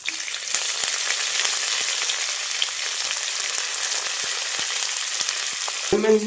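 Onion frying in a pan for chicken ghugni, a loud steady sizzle with faint crackles and a brief stirring scrape near the end.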